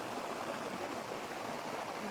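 Steady, broadband rush of a waterfall at Padley, constant and fairly soft throughout with no voices or other sounds breaking in.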